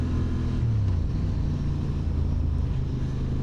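A 2025 Honda CB750 Hornet naked motorcycle is heard while being ridden. Its engine gives a steady low drone, mixed with wind rush across the microphone. The sound is continuous and fairly loud, with no talking.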